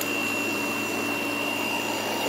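A Kool King air conditioner running out of its case gives a steady, loud whirring drone with a constant fan rush and a fixed high whine, unbroken for the whole stretch.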